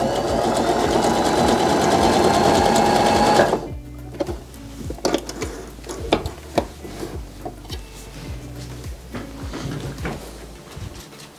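A Baby Lock Joy & Zeal sewing machine stitching its widest zigzag, set to width five and 3 mm length, whirs loud and fast for about three seconds, then stops, leaving scattered clicks and fabric handling.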